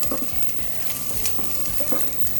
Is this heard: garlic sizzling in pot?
yes